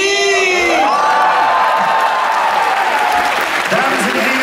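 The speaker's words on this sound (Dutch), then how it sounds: "graag nog een warm applaus" A live stage-show audience at the Samson & Gert farewell show bursts into loud, sustained applause mixed with cheering and children's shouts and whoops, close and continuous throughout.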